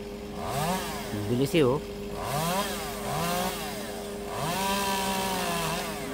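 A small handheld chainsaw cutting wood in Japan revs up and down in repeated rising and falling whines, loud and close, with someone speaking briefly over it.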